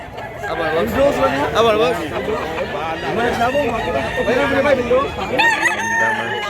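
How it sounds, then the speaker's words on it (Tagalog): Many roosters and hens at a fowl market in Mantalungon, Cebu, where birds sell for about 3,500 each, crow repeatedly in overlapping calls with scattered clucks, loud and close, while people talk and bargain among them. "Daming manok mga idol."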